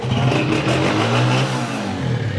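A Honda CB125F 125cc self-start motorcycle engine revs steadily close by, a throaty mid-pitched drone that swells slightly and holds without pause.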